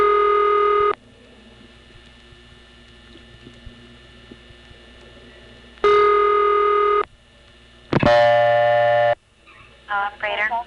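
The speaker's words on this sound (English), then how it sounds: "The West Los Angeles tone plant of this office is best heard on this particular call." Telephone operator call tones from a West Los Angeles tone plant in 1976 sound as loud, clean bursts, one long, then a pause, then two more in quick succession, over faint line hiss, with a brief voice at the end.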